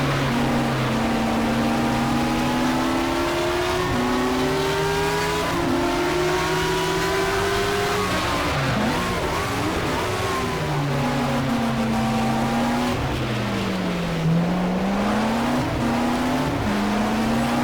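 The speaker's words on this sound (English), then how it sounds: "running in these low gears because it raises the revs and makes the engine get hot" A race car engine in the rFactor racing game revs high in low gears, its pitch climbing and dropping through repeated gear changes, loud and continuous with no talk.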